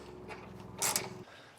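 A 12mm ratcheting wrench tightens a bolt while an air helper spring kit is fitted to a 2024 Ford truck, heard as a brief faint clicking ratchet followed by a short scrape before stopping.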